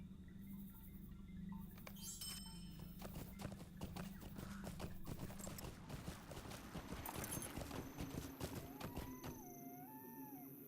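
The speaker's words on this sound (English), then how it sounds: "Now we are going to mount up on our own horse and ride over to the last homely house itself." Horse hooves clip-clop in Lord of the Rings Online, a steady quiet rhythm of hoofbeats under soft ambient game sounds, with a brief whinny-like call near the end.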